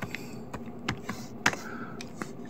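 Quick bursts of typing on a computer keyboard while entering a command prompt instruction, a short run of close, crisp key clicks at an uneven rhythm.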